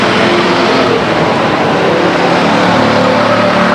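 Stock race cars roaring past the grandstand at Stockton 99 Speedway in 1999, a loud, dense, continuous engine drone filling the whole stretch without letup.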